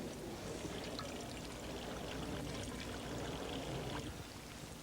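Water trickles and pours out of the bottom of an improvised sock filter into a container: a continuous, close splashing flow that holds steady throughout and fades slightly at the end.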